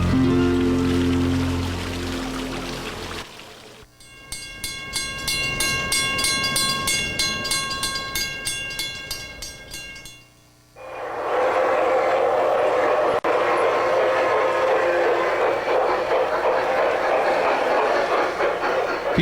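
A small model garden railway train clatters along with a steady rhythmic clicking and bright ringing tones, then gives way to a loud, broad rushing wash of sound.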